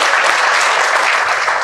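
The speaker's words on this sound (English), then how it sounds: "Please give a round of applause." Dense, loud applause fills a room at a fundraising dinner for children's heart care in Houston, a steady crowd clapping with no pauses for the whole short stretch.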